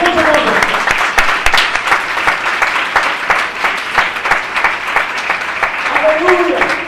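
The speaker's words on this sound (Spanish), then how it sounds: "Dale un fuerte aplauso así con mucho gozo." Church congregation claps joyfully during a service, brisk continuous applause with crisp individual claps, while a voice speaks briefly at the start and end.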